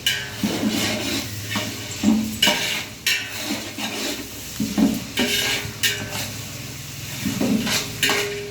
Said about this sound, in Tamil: இப்போ வெங்காயம் ஓரளவுக்கு வதங்கிடுச்சு